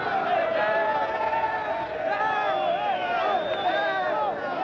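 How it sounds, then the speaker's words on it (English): Large stadium crowd at a 1989 Canada Day Cup football match between Toronto Blizzard and Flamengo, a steady roar of cheering and chanting with samba music mixed in, while a commentator speaks over it. "Great crowd on hand."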